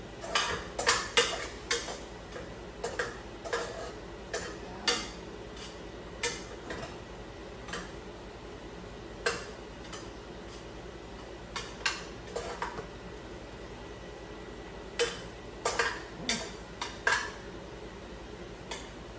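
A metal spoon stirs sinanglaw, an Ilocano beef stew, in a pot, making sharp clinks and scrapes against the sides. The clinks come in irregular clusters with quiet gaps between them, over a low simmering background.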